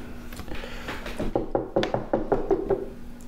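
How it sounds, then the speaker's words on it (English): A door is knocked on: a quick series of about eight sharp raps, fairly close and clear, over a quiet background. "You'd hear a knock on the door."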